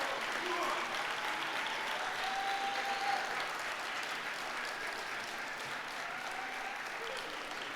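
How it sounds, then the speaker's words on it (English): Graduates and guests at a fall university convocation ceremony applaud steadily, a dense, even wash of clapping from a large indoor crowd that holds at a constant level for several seconds. "I invite you to applaud your family, friends, faculty, and staff who've helped you along the way."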